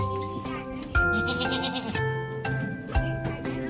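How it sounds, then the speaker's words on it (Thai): Goats on a goat farm bleat repeatedly, several wavering cries near and loud, overlapping with someone talking. "นี่คือแพะนะครับ"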